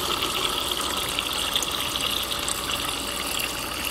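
Water gushes steadily from a sink tap, a continuous close hiss and splash with no pauses and no voices.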